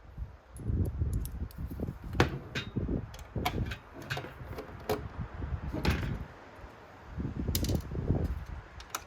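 A screwdriver works on a Dell P2018H monitor during a teardown, producing close, irregular clicks, taps and scraping mechanical sounds in short bursts against a quiet background.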